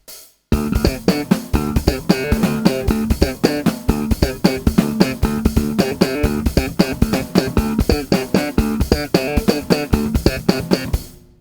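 Electric bass plays a second-verse riff in 21/16, steady driving plucked notes in an odd-meter rhythm, loud and close, continuous after a brief start.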